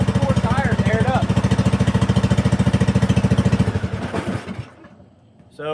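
A Snapper zero-turn mower's small engine runs steadily on its own with a rapid, even chugging pulse for about four seconds, then sputters and falls away near the end.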